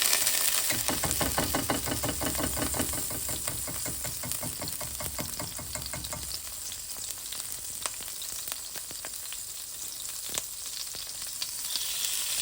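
A tablespoon of butter sizzles in a pan of vegetable oil, a dense crackling fry that is busy and pulsing at first, then settles into a softer steady sizzle with occasional pops, close up and without speech.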